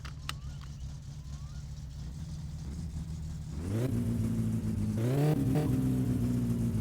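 A car engine in the video game My Summer Car idles steadily with a low hum, then revs up, rising and falling in pitch as the throttle is blipped a couple of times.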